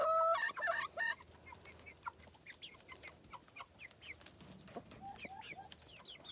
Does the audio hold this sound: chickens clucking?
yes